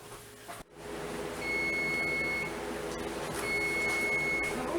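A kitchen timer sounds two short runs of steady electronic beeps over a low room hum, with a brief clunk just before the first run.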